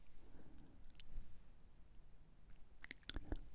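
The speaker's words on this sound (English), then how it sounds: "mouth sound near the microphone" Soft wet mouth sounds made very close to a microphone for ASMR, quiet smacks and clicks scattered through a hushed background, with a sharper cluster of crisp clicks near the end.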